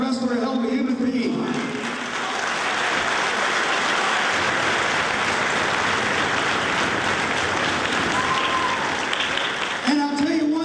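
A large crowd of wrestling fans cheers and applauds loudly in a sustained roar, with a voice speaking briefly at the start and end.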